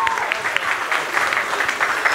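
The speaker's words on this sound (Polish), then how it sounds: "Dziękujemy wszystkim kandydatkom i jeszcze raz prosimy o ogromne brawa." A crowd claps for the candidates at a regional beauty pageant, a close, busy patter of many hands with sharp individual claps standing out, continuing steadily throughout.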